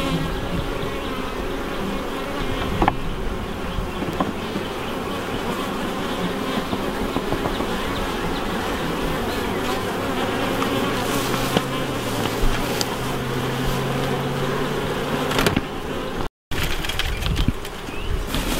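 Honey bees swarm around an open hive during an inspection, a loud, dense, steady buzz that fills the whole stretch, with only a brief dropout near the end and no voices.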